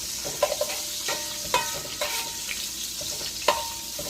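Cabbage frying with bacon in a pan over medium heat, a steady close sizzle with irregular stirring scrapes and clatters throughout, no talking.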